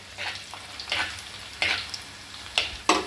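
Fenugreek seeds, garlic and ginger fry in oil in a pan for a fish-and-tapioca meal, giving a close, steady sizzle broken by a few sharp scraping stir strokes.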